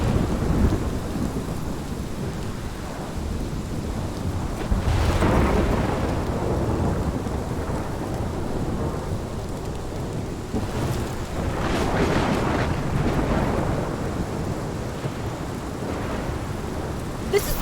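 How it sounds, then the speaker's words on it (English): Thunderstorm in the video game Life is Strange, with steady heavy rain and rolling thunder swelling loud twice through the stretch, no talk over it. "This is my storm."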